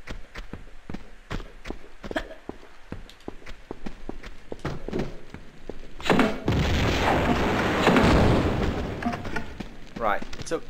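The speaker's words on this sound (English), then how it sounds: "took 2 shots from the grenade launcher" Grenade launcher shots in Tomb Raider II Remastered give a series of sharp, evenly spaced thuds, then a louder, longer rumbling blast that fills the last few seconds.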